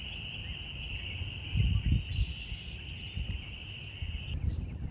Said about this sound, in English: I'm not sure that the video will do justice to just how loud the spring peepers are right now.